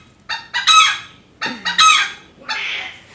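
A rooster crows twice in quick succession, loud and close, each crow built from several rising bursts, followed by a shorter hoarse call.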